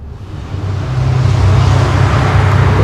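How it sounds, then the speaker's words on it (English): Road traffic rushes past nearby: a broadband engine and tyre roar swells from moderate to loud and holds, with a low motor rumble underneath and no talking. "so many cars"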